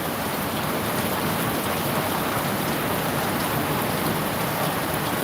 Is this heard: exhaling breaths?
no